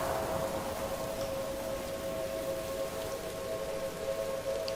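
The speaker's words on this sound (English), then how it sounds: "Are those the tornado sirens?" Tornado sirens in the video game Three Fourths Home hold steady, sustained wailing tones throughout, set against a constant rain-like hiss with no talking.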